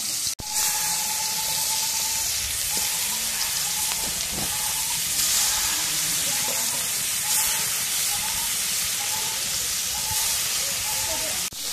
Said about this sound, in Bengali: এখন চিংড়ি মাছগুলো দিয়ে দিই।